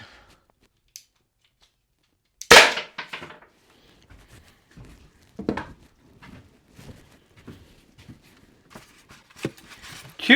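A Byrna less-lethal launcher fires once in a penetration test: one sharp, loud crack, followed by a few softer knocks and clattering impacts in a quiet indoor space.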